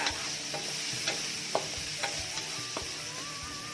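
Minced pork dry-roasting in a pan with lemongrass, chilli and salt gives a steady close sizzle, with intermittent scraping stir strokes against the pan and no voices.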